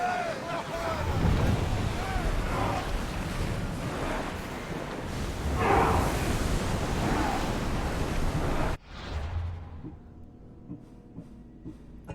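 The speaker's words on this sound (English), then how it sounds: "Ready to sail! The commander is taking the helm!" Ship setting sail on open sea in Assassin's Creed, with rushing waves and wind whooshing loudly throughout, then cutting abruptly to a quieter ambience with a low hum.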